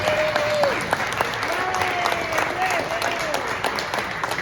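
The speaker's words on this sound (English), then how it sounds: "So let's give these three hard-working guys a round of applause." Audience applause at an evening event honoring three helpers, a steady patter of clapping with a few cheers and whistles mixed in, while a voice talks faintly underneath.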